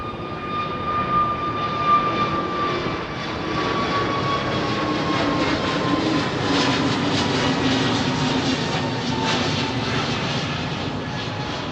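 Jet airliners arriving and departing at London Heathrow Airport, a steady loud engine roar with a whining tone, sustained throughout with no voices.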